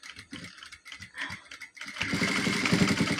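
A domestic sewing machine stitching a pant-cut salwar with a two-inch slit at the hem whirs in short bursts at first, then runs continuously and louder for the final second and a half.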